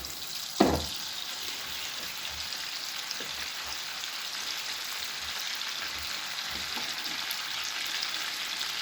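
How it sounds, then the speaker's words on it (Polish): Butter heating in a frying pan before a beef steak goes in gives a steady, even sizzle and crackle throughout, with a brief clatter near the start and faint occasional knocks. "doprowadzamy to masło po prostu do, do tego, żeby zaczęło właśnie tak skwierczyć też na tej patelni"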